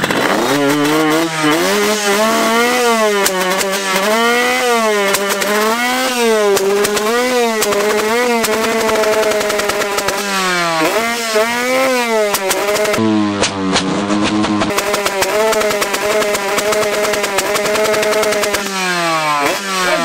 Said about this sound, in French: J'accélère à fond, je mets une nose.